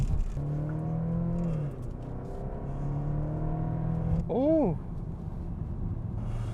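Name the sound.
Kia Stinger 2.5 turbo four-cylinder engine revving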